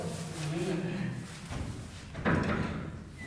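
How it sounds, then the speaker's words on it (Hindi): A classroom door bangs shut with a dull thud, followed by a louder slam a moment later, heard close by over steady room noise and a talking voice. "दरवाज़ा बंद किए हो"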